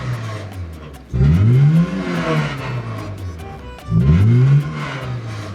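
Honda Civic engine running on bacon grease in place of oil, revving hard twice with rising, strained bursts over a rough, smoky idle, loud and close.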